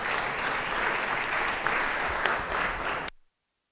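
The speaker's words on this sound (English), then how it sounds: "Give her a round of applause one more time." A room full of people in a legislative chamber clapping steadily for about three seconds, then stopping abruptly into silence.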